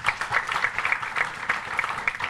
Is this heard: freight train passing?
no